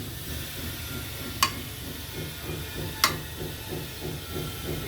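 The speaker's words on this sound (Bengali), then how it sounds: "পুরোটা ভাজি দিয়েছি, আবার একটু পরে নাড়ে দিব। গ্যাস অনেক কম তো।" Vegetables frying in a pan on a very low gas flame give a steady, faint hiss with a soft rhythmic bubbling underneath and two brief sharp pops.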